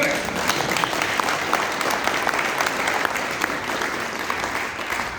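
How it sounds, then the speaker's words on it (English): A crowd at a prayer gathering in Las Vegas applauds steadily, with dense, continuous clapping that holds at an even, fairly loud level throughout. "So, everybody should clap their hands for Elliot."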